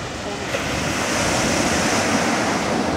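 Sizable sea waves break steadily on the shore at Imeretinka beach in Adler, a loud continuous wash of surf mixed with wind noise on the microphone.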